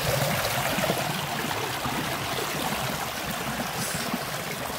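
River water flows into a roughly 100-year-old pool through a small debris filter, giving a steady, close rushing trickle that holds at an even level throughout, with no voices.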